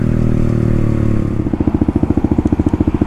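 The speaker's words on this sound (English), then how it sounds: "That exhaust is a little noisy." Herald Maverick 125cc fuel-injected motorcycle exhaust, loud and close, moving from a steady drone into a rapid, pulsing putter as the engine runs on.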